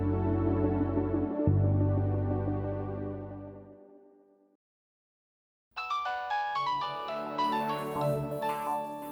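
A melodic phone ringtone plays loudly, cuts to silence for about a second, then a brighter tune of rising tones starts up.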